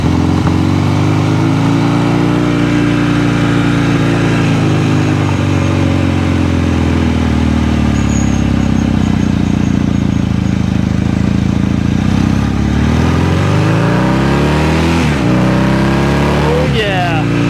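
Kawasaki KZ750 motorcycle engine idling steadily as it warms up, a loud, continuous low rumble with several rising revs near the end that needs carb work.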